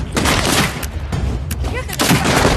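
Rapid gunfire bursts in the VR game Saints and Sinners: Retribution, loud and dense with booming impacts, under shouting voices.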